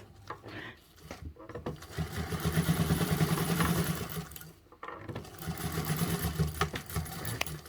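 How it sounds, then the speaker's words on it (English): A sewing machine runs a basting stitch with a 1/8-inch seam allowance while assembling a tote bag, its steady rapid needle chatter running in two long bursts separated by a brief pause, close and fairly loud. "So this is just a basting stitch, so a 1/8 seam allowance."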